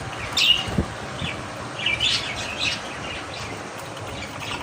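Pet birds, including lovebirds, chirp while feeding at home, with scattered short tweets near and far over a soft, steady background rustle.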